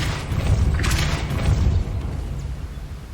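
A Depulso spell cast in Hogwarts Legacy, heard as a heavy, rumbling boom with a low thudding roar that swells and then fades out over a few seconds.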